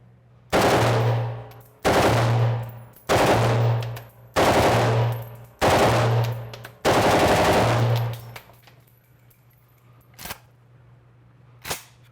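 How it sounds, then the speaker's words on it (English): An assault rifle fires on full auto in six loud, close bursts, each roughly a second long, with short gaps between them. A couple of faint clicks and knocks follow in the quiet afterwards. "It's quite loud, a little difficult to control on full auto"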